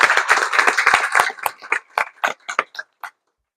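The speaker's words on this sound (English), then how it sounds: "And if you'll come up here, Miss Smallwood, let's give her a round of applause." Audience clapping for a school cafeteria staff member, starting as close, dense applause that quickly thins into scattered individual claps and stops after about three seconds.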